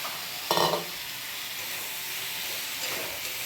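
Potato and ridge gourd dropped into hot spiced oil with nigella seeds, bay leaf and dried chili, giving a sharp burst of sizzle and then a steady frying hiss, with a second swell near the end.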